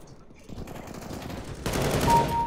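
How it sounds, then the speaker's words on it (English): Rapid gunfire in the shooter game CS:GO, bursts of automatic shots that grow louder and denser toward the end, with a voice briefly heard underneath. "Why is someone shooting at me while I'm buying guns?"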